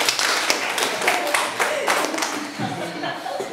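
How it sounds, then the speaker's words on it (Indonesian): Students in a seventh-grade classroom break into a short burst of clapping, close and uneven. Voices and a chuckle come through alongside it. "tepuk tangan"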